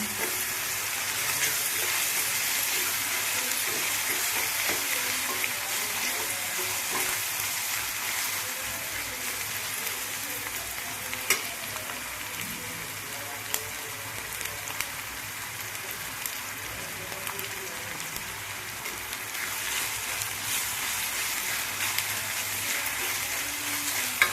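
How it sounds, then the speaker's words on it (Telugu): Ginger paste frying with onions in a pan for a raw prawn and gongura curry, a steady close crackling sizzle with occasional stirring scrapes throughout, no talk. "ఉల్లిపాయలు అయితే బాగా వేగింది కదండి అల్లం పేస్ట్ వేసుకుందాం అల్లం పేస్ట్ పచ్చివాసన పోయేలాగా వేసుకుందాం"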